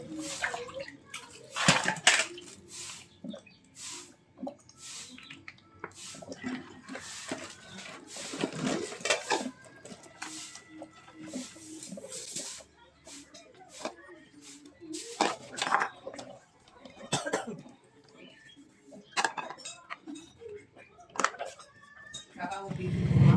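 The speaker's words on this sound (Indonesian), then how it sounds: "Aku sengaja pakai air yang banyak supaya jadinya lebih enak, lebih bersih gitu, bersihin perabotannya." Dishes and kitchenware are washed under lots of running water, with splashing, clinking pots and cutlery in irregular bursts close by, and someone speaks over the sounds.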